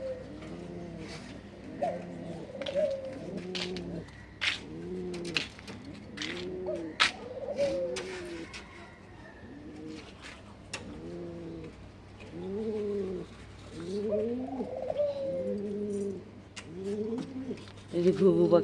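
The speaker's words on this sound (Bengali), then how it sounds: "এই যে আমাদের কবুতরগুলি আলহামদুলিল্লাহ ভালো আছে।" Pet pigeons on a rooftop coo in a steady run of throaty, rolling calls, close and fairly clear, with occasional clicks and a low hum in the background.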